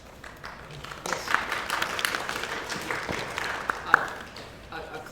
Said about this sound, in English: A clap, some applause is appropriate.